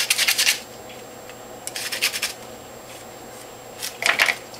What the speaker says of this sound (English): So in the palm of the hand again, scrape off the fiber.